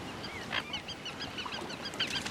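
Widgeon, mallard and teal call at Lake Baikal, a faint distant chorus of honks, whistles and quacks overlapping irregularly over a soft outdoor wash, with no voices.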